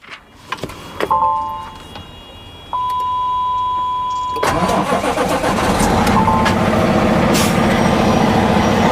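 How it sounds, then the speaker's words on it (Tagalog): A truck's auxiliary power unit cranks with a few clicks and a brief whine, then catches and settles into a loud, steady, close running drone that builds and continues to the end. "Sir, my APU will start, okay?"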